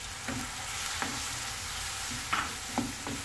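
Prawns sizzle in a hot pan with chillies for a garlic roast, a steady frying hiss broken by a few soft stirring scrapes and clinks, close by and without voices.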